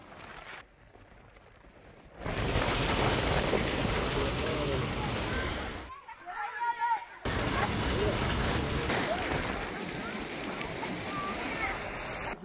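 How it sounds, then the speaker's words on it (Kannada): Heavy rain driven by strong wind lashes the Western Ghats hills in Karnataka's Chikkamagaluru region, a loud rushing roar of wind and water. It breaks off twice into near-silence, and a brief spluttering patch sits between the louder stretches. "ಪಶ್ಚಿಮ ಘಟ್ಟಗಳ ಸಾಲಿನಲ್ಲಿ ಬಿರುಗಾಳಿ ಸಹಿತ ಭಾರೀ ಮಳೆ ಆಗ್ತಾ ಇದೆ"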